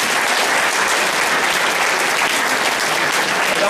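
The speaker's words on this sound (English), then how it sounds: "round of applause." A crowd at a Bhagavad Gita talk breaks into loud, dense applause, many hands clapping in a continuous, steady roar that holds for several seconds.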